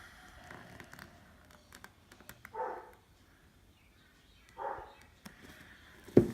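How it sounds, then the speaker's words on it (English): A dog barks behind the house, three short barks spaced a couple of seconds apart. They sound distant and faint over a quiet room. "And there's the dog behind barking."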